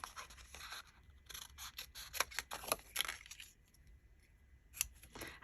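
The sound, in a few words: scissors cutting paper for a mixed media card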